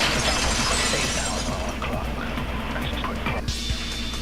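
A vase shattering in the video game Danganronpa 2 makes a loud, sustained crash of breaking glassy debris that fills the whole stretch, with a couple of sharper hits near the end.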